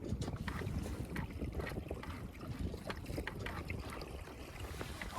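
Sailboat cruising at just over 3 knots under a Raymarine ST1000+ tiller pilot, with steady broadband wind and water rush close to the microphone and faint splashes, continuous throughout.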